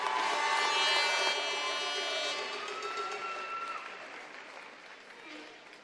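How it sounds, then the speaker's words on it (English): Crowd at a national open swimming championship in Scotland cheering and applauding a swimmer, a loud sustained wash of clapping and whistles that slowly fades. "Everybody, let's have a massive cheer for Jamie Graham."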